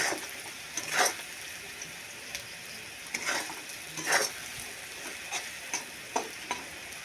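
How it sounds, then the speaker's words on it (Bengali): Potatoes frying in a pan hiss quietly and continuously while a spatula scrapes and tosses them in several distinct bursts at irregular intervals, close by and with no talking. "তাই জন্য আমি এখন ভালো করে ভেজে নিচ্ছি"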